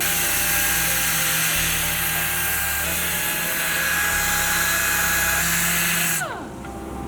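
Power sander working around the angled perimeter edge of an epoxy table, a steady loud whining grind that runs continuously for several seconds, then spins down and cuts out near the end.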